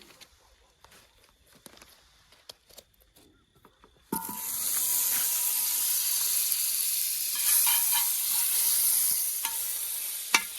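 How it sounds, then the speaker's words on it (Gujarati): Amul butter hits a hot kadai for pav bhaji, setting off a sudden loud, steady sizzle after a few seconds of quiet handling sounds, with the frying hiss continuing to the end. "કઢાઈ ગરમ થઈ જઈએ તો અમૂલનું બટર નાખશું"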